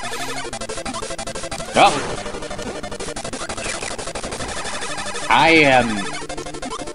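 In Kirby's Dream Land, Kirby shoots at an enemy, giving a couple of loud bursts over a dense, constant chiptune-style game clamour, with a voice exclaiming briefly.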